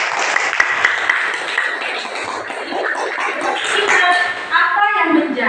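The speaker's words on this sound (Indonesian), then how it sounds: "beri tepuk tangan untuk teman kalian" Classroom applause from a group of students, a burst of scattered clapping mixed with children's chatter and voices that carries on as talk takes over near the end.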